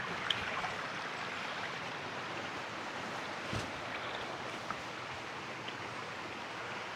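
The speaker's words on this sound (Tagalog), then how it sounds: "Galing sa bukal yung tubig." Clear spring water flows from its source at Pinamun-an Spring in Nagcarlan, Laguna, a steady, soft wash of running water with no talk over it, faint and continuous.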